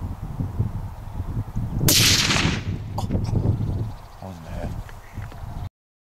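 Remington 700 rifle in .223 firing a single sharp, loud shot outdoors, followed by a rumbling echo that fades into low background noise before cutting to silence.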